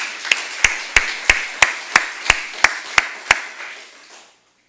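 Members of a church congregation clap together for the deacons during a special evening service: around ten crisp, regularly timed claps echoing in a large room, ending in a fading tail and silence.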